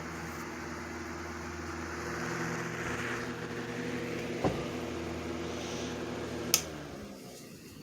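A 1954 Westinghouse 12-inch oscillating table fan motor runs with a steady low electric hum and airy whoosh, its pitch gently shifting, with two sharp clicks near the end.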